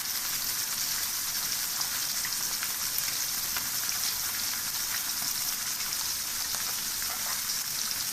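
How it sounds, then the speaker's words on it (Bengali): Loud, continuous sizzling and popping of rohu fish frying in hot oil, close by and steady from start to finish. "তেলের মধ্যে মাছ ভাজি করে নিচ্ছি ভালো করে তেল গরম করে নিতে হবে"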